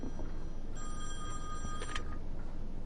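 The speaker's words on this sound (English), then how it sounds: "the phone's ringing" A telephone in a home rings once, a steady electronic trill lasting about a second over a quiet background hiss, with no voices.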